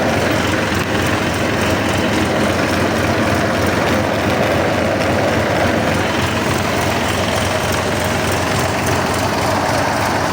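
Locomotive diesel engine running at 750 rpm in throttle notch 8, a loud steady heavy rumble with a broad roar, unchanging throughout with no voices.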